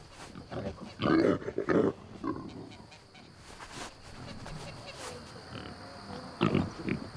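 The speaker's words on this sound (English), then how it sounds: "As part of that offering, Juan Cimbron will slaughter one of his precious pigs." A pig squeals and grunts as it is slaughtered for a holy food offering, loud harsh bursts near the start and again at the end with quieter animal noise and faint background sounds between.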